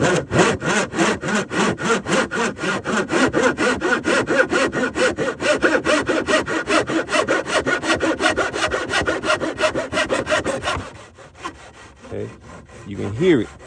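A hand saw cuts through wood trim in a miter box with fast, steady back-and-forth rasping strokes, loud and close, then slows and stops with a few lighter strokes and handling sounds.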